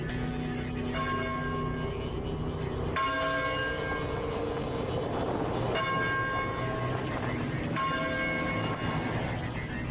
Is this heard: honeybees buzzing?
no